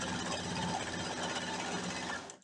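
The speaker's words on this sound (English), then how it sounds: "And then I'm going to put it down. And sew." A sewing machine stitches quilt fabric with a fast, even mechanical whir and rapid needle chatter, running steadily and fairly quietly before stopping at the end.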